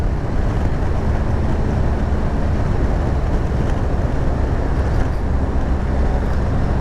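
A BMW R1250GS motorcycle on the move, a dense steady engine and wind roar with no clear gear changes, loud and continuous.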